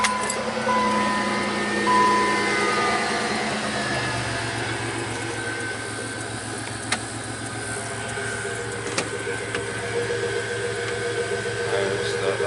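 A Chevrolet Lumina car engine starts and runs, a steady mechanical rumble that settles into an even idle close by, with faint background noise and no talk over it.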